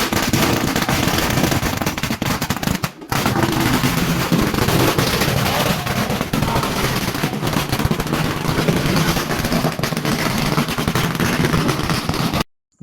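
Firecrackers set off around a temple during a festival, a dense, loud and continuous barrage of crackling bangs. It runs almost unbroken for about twelve seconds, with only a brief dip near the start, and cuts off at the end.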